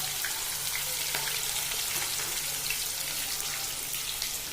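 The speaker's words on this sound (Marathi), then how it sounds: "त्याच्यानंतर टाकायचा आहे कांदा. चला मग कांद्याला पण चांगलं परतू द्या." Chopped onion frying in a pan, a continuous bright sizzle and crackle at close range, steady and moderately quiet, with no voices.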